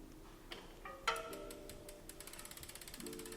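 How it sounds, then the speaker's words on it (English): Bicycle disc brake caliper bolts tightened with a ratchet tool, giving a few metallic clicks and then a quick even run of close, faint ratcheting ticks. "just nip each bolt up"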